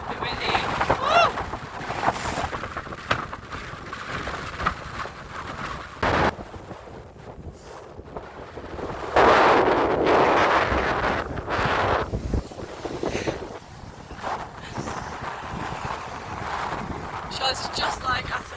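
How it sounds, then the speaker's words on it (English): A headwind buffets the microphone while cycling toward Llandudno in Wales, loud gusty rumbles surging and fading in bursts, with voices talking now and then. "Bit windy."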